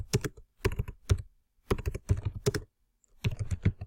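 Clicky bursts of typing on a computer keyboard, keystrokes coming in quick clusters separated by short pauses, close and fairly loud with no voices.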